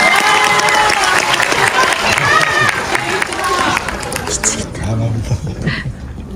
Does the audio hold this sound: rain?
no